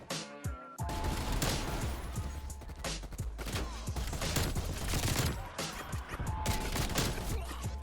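LMG gunfire in a shooter video game, dense continuous bursts of rapid shots filling the whole stretch, loud and close, with no talk over them.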